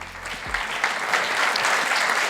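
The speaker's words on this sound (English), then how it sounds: "Please, one big applause for this man." A conference audience at the Adria Summit breaks into applause, a dense, steady wash of many hands clapping that swells and holds.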